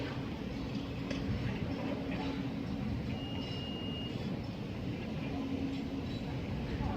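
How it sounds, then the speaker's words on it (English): Train passing at speed on the main line at Sittingbourne, a continuous loud rumbling roar with a steady tonal whine, sustained from start to finish. "That could be one of the trains at speed."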